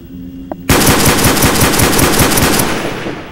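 Rapid automatic gunfire in Call of Duty Black Ops Zombies, Shi No Numa map: a loud, close burst of evenly spaced shots fired in fast succession for about two seconds before trailing off.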